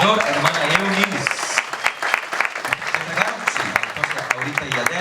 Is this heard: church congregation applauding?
yes